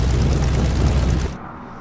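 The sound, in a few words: vintage aircraft engine throttled down 1,000 RPM, flight simulator game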